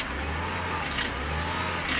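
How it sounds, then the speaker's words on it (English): A BMW X5 E53 SUV engine runs at a raised, steady idle while warming up, giving a continuous mid-pitched drone that swells slightly a couple of times and stays fairly close. "So as you can hear it, it's revving up."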